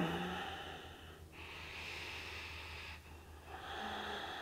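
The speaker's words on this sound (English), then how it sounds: "Ujjayi breaths to hold you steady." Slow ujjayi breaths during a vinyasa yoga flow, a soft, close, hissing throat-breath that rises and falls in long strokes with brief pauses between, quiet and without talk.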